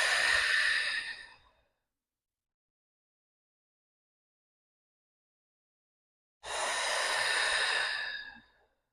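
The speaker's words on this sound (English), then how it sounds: "Exhale." Two long, steady exhalations during a mat Pilates double leg stretch, each about a second and a half, separated by a stretch of silence; close and breathy.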